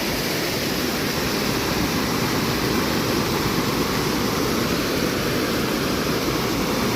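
Heavy monsoon rain in Konkan pours steadily alongside a swollen, flowing river, a dense continuous roar of water with no breaks or voices.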